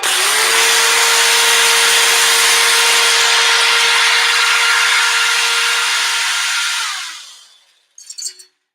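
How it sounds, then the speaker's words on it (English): A variable speed drill fitted with a small whisk whines at a steady high pitch while mixing meringue, running loudly for several seconds before winding down and stopping, followed by a brief clatter. "So first we will use the variable speed drill for a minute."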